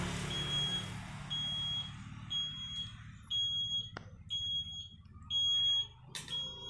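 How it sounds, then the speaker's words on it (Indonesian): A motorcycle anti-theft alarm on a Honda CB150R beeps in short, repeated high-pitched electronic bursts at regular intervals, with the low engine idling beneath and a few clicks. "tombolnya nggak ditekan maka alarm akan berbunyi seperti ini"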